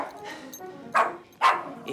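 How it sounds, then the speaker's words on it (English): A small dog in a family comedy film gives two sharp, close barks about half a second apart, following a stretch of quieter background sound. "You're not a very nice doggy."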